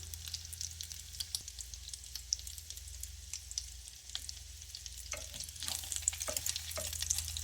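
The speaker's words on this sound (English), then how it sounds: "we're just gonna flip it over. See how nice it's stuck together because of that egg in there. Still browning on that side." An oatmeal burger bound with egg fries in a pan, giving a steady, fairly quiet sizzle, with a few scraping and tapping sounds toward the end as it is turned over.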